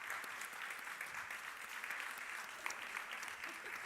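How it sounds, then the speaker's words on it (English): A conference audience at an education awards livestream applauds a winning university with steady, even clapping, heard faintly and from a distance with no voices over it. "Please, very, very big round of applause."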